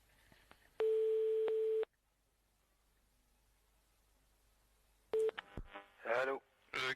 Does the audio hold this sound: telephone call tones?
yes